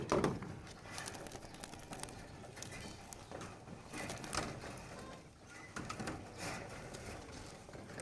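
Caged pigeons feed, giving low cooing amid pecking and scattered clicks, moderately close with a steady room hiss.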